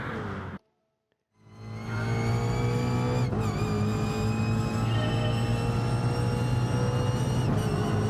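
Engine of the Alpine VGT race car in Gran Turismo Sport, a loud sustained high whine that holds steady after a brief silent gap, close and without talk.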